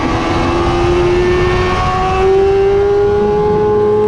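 A motorcycle laps the Dubai Autodrome circuit, its engine droning loud and close with a steady high-revving tone that shifts pitch slightly partway through, with no voices.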